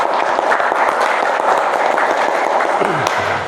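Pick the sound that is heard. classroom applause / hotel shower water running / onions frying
classroom applause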